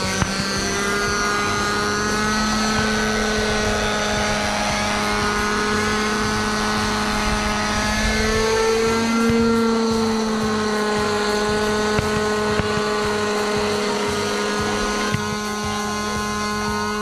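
A nitro RC helicopter hovers a few meters overhead, its engine and rotor giving a loud, steady buzzing drone with slight pitch shifts throughout, no voices.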